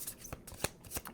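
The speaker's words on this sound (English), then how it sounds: "I wanted to shuffle live on camera today again." Tarot cards are shuffled close by in quiet soft riffles and light taps, faint and irregular, with no talk.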